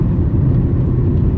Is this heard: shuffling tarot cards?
no